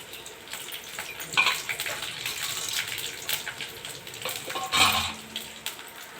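Urad dal, chana dal, cumin, garlic and dried red chillies fry in hot oil with a close, crackling sizzle that swells in a few louder spitting bursts.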